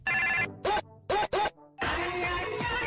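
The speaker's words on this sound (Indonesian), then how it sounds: "tak lama berbunyi suara telepon" A cartoon telephone in a SpongeBob SquarePants episode rings in short repeated electronic trills, close and fairly loud, followed by a longer cluttered ring.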